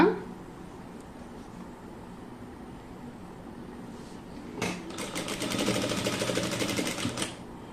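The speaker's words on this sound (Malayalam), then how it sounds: "സൂചി കുത്തി നിർത്തുക എന്നിട്ട് വീണ്ടും മുകളിലേക്ക് സ്റ്റിച്ച് ചെയ്ത് കൊടുക്കുക" Sewing machine stitching fabric, quiet at first with faint handling, then a steady rhythmic whir of stitching for about two and a half seconds before it stops.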